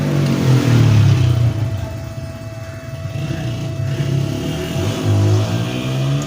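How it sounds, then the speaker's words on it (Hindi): An old Shahzad mini water pump motor runs with a steady, close, droning hum. Its loudness swells and dips slightly, with no talking. "ये मोटर एक्सपायर हो चुकी है, अपनी मियाद पूरी कर चुकी है, लेकिन फिर भी चल रही है"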